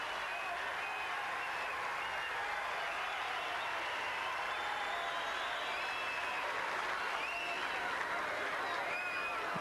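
Crowd at an ATP tennis match applauding and cheering steadily, a dense wash of clapping and voices that holds at even loudness throughout.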